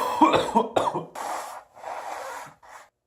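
A person coughs several times in quick succession, harsh and close, followed by a few softer breathy coughs trailing off.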